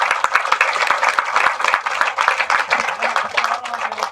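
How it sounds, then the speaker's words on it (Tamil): Loud, close clapping from an audience at a Tamil film's audio release event, a brisk burst of hand claps lasting a few seconds with faint voices mixed in. "ஒரு பலத்த கரகோஷங்கள் கொடுத்துருக்காங்க"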